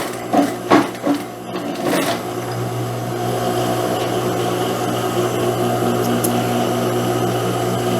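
Sewing machine stitching a trouser seam and going back over it to reinforce, a few short clicks and starts followed by a long, even run of stitching, close and steady with no talking.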